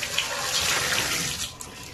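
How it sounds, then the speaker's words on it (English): Hot water gushing from a tap in a shower, a loud continuous splashing rush that thins out near the end, with a small clatter just after. "So I'm gonna use some hot water."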